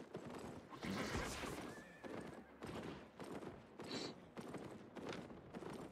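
Horses in Albion Online neigh and whinny over steady clip-clopping hooves, loud and close within a busy, noisy game scene, with no speech.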